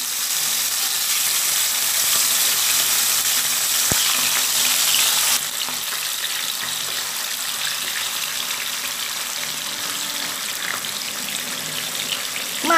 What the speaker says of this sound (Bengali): মাছগুলোকে দিয়ে আগে মাছগুলোকে ভেজে নেব।